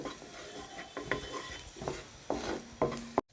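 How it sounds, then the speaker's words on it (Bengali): Garlic cubes and chopped ginger frying in oil in a pan for spicy pasta, stirred with a utensil: soft sizzling under a handful of sharp scraping and clinking strokes at irregular intervals, close up. "আরেকটু তেল দিয়ে এখন দিয়ে দিব রসুন কিউবস ও আদা কুচি 2 টেবিল চামচ। দুই 1 মিনিট ভেজে নেব।"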